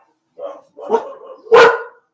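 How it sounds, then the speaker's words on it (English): A nine-month-old puppy barks three times, short sharp yips that grow louder with the last one strongest, heard close in a quiet room with no speech. "That's my puppy. Still barking."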